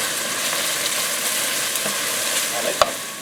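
Pureed garlic frying in a pan while being stirred, a continuous close sizzle with soft scraping and a sharp utensil knock near the end.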